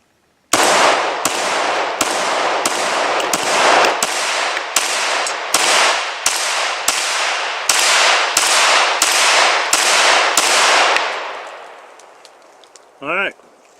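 A Glock pistol fires about fourteen loud, sharp shots in a fast, even string, each crack ringing briefly outdoors before the sequence stops, followed by a short mechanical rattle.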